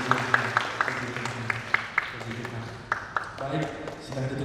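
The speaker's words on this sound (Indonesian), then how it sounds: "Penuh dengan tepuk tangan yang meriah," Wedding guests applaud at a holy matrimony ceremony, with scattered hand claps rising and falling over a steady murmur of talk and room noise.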